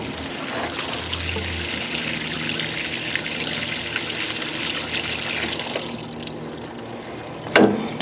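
Coolant pouring steadily from the engine of an old Rambler car, a continuous splashing trickle that lasts several seconds before tapering off, followed by a brief knock near the end.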